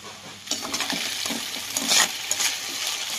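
A spoon stirring potatoes and onions in a hot pan for a curry, scraping and sizzling close up in short uneven strokes, no voices.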